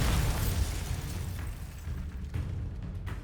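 Bombarda spell blast in the Hogwarts Legacy video game: a broad, rumbling explosion that fills the whole stretch with no separate hits, dense and loud, with no voices.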